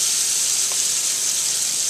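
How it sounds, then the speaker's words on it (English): Continuous hissing sizzle of patties frying in hot oil, steady and fairly close with no voices. "You want that sizzle."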